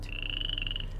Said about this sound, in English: Outside, I could hear frogs by the pond